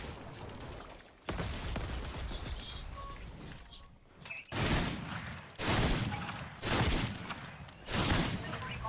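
Heavy Fortnite gunfire bursts in a few loud, spaced volleys, each a dense blast of shots with a short fade, a quieter stretch of game noise coming before them.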